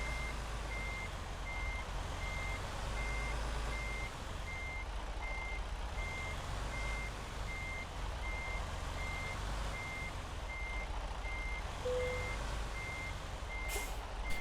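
Truck reversing beeps in American Truck Simulator, a steady evenly spaced electronic beep repeating throughout over a low engine rumble, with a short hiss of air brakes near the end.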